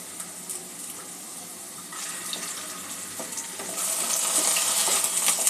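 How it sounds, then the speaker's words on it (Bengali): Potatoes frying in a pan over a low-to-medium gas flame for a Bengali egg dalna, giving a steady, close crackling sizzle that grows louder and denser toward the end, with no voices. "আলুটা একটু ভেজে নেব।"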